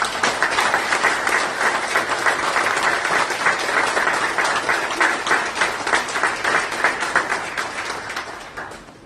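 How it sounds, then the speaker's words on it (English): Loud, sustained applause rolls through the room at a corrections academy graduation ceremony, a dense wash of many hands clapping that holds steady for several seconds before tapering off. "If we can all give a round of applause"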